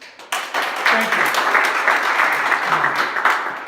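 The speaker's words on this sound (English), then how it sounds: "please give him a round of applause" An audience at a Mosaik talk in Budapest applauds a speaker with steady, close, full-bodied clapping. It begins after a brief pause and continues evenly for several seconds without fading.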